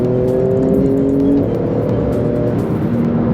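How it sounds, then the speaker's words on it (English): A 2018 Porsche GT2 RS accelerates hard, its engine roaring loud and close with a rising whine as the twin turbos spool, then easing into a steady drone. "You can hear the twin turbo spooling, right?"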